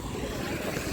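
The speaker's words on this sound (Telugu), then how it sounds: "లారీ పోతుంది" A lorry driving past on a road near a temple, a steady broadband engine rumble with low-frequency drone holding at moderate level throughout the second, no voices over it.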